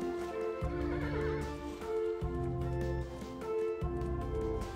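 Horse in the video game Kingdom, neighing and whinnying in three repeated bursts over steady hoof clip-clops, loud and close with a continuous game backdrop.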